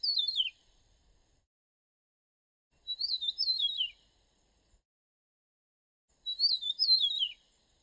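Three short bursts of high, quick bird chirps with long silent gaps between them, clear and fairly close in a quiet setting.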